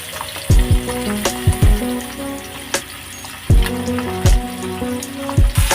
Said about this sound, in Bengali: প্রথমে দিব লবণ, তারপরে হলুদ দিয়ে মাখিয়ে তেলে ভাজবো।